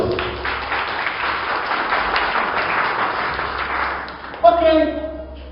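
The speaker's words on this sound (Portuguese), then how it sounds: "Aplauda o Senhor Jesus." Congregation applauding in a Baptist church service, a broad sustained wash of clapping over several seconds, followed by a loud voice as it ends.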